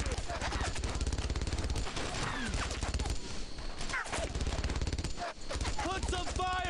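Dense, rapid gunfire from the World War II shooter Brothers in Arms: Earned in Blood, with bursts of automatic fire and overlapping shots rattling loudly and almost without pause, and game voices mixed in.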